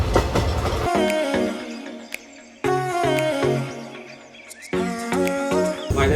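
A train leaving Palanpur rumbles along the rails with rhythmic clacking and steady mechanical noise, fairly loud and close, with brief quieter gaps between passages.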